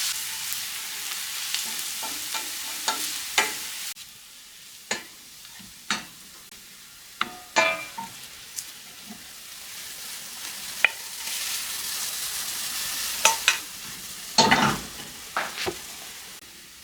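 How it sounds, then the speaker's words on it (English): Fennel and leek sauté in a home-kitchen pan, a steady soft sizzle broken by repeated scraping stirs and clacks of a utensil, close and moderately loud, with no talking. "You're supposed to saute the fennel and the leek until they become golden brown."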